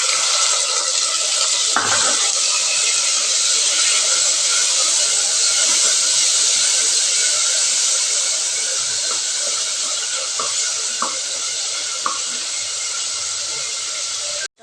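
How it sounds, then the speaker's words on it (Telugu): Tomatoes sizzle in a hot pan while a bottle gourd and peanut curry is cooked, a loud, steady, close frying hiss that runs unbroken for nearly the whole stretch, with a few faint clinks. "కొంచెం ఇలా ఫ్రై చేసుకోండి ఇప్పుడు ఇందులోకి టమాటాలు కూడా వేసేద్దాం"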